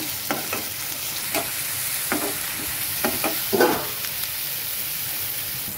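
Crushed garlic, chili and salt fry in a hot pan with a soft, continuous sizzle, broken by a few scraping strokes of stirring, and no talking.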